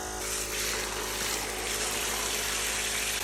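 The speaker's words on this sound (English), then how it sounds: "So this is the shower tube being pressurized, and then with a regular standard shower head." Water sprays hard from a standard shower head on a pressurized Vevor aluminum solar shower tube, a loud, continuous, hissing rush close to the listener that holds steady throughout, with no talking.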